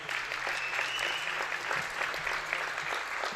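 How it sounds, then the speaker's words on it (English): An audience at a women's junior pistol shooting final at the 2024 European Championship in Osijek applauds in steady, moderately faint clapping that carries on throughout, with a commentator speaking quietly over it. "And applause from Julian Boutma."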